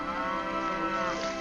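A cow from the Lake Placid crocodile film gives a long, drawn-out moo, loud and close, a single sustained call heard alone.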